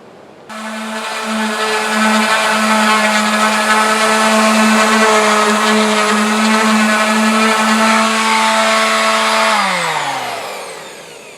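Power sander rubbing down the painted steel side of a narrowboat, a loud steady motor whine that runs unbroken for about nine seconds and then winds down, with no talking.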